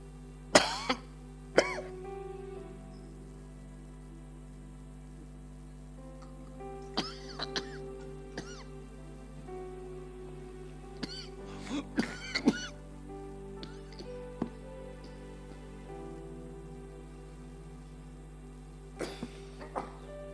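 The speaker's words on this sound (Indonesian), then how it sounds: "Saya batuk masuk di YouTube. Keselak." A preacher at a Sunday church service coughs and clears his throat several times, sharp isolated bursts scattered over a quiet room with a steady hum underneath and gaps of silence between.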